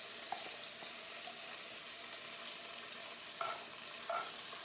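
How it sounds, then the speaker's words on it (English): Quarter cup of coconut oil heating in a hot pot on a raised flame gives a faint, steady sizzle, with a few brief clinks of stirring. "So I'm just gonna saute"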